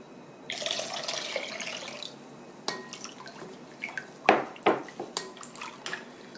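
Vinegar poured into a Korean pickle brine for jangajji, a steady close liquid pour followed by a few splashes and light clinks.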